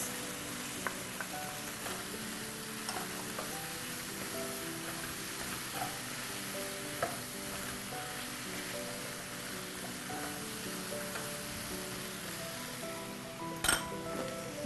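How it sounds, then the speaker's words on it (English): Mushrooms sizzle gently in a pan with vegetables for a ratatouille and pasta bake, a steady soft frying hiss broken by occasional light clinks of a utensil stirring against the pan. "Then we add the mushrooms."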